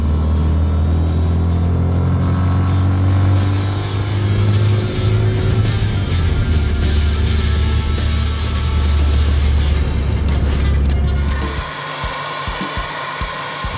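A 1998 Rover Mini Cooper S engine revs hard with rising pitch, loud and close, then drops off abruptly near the end.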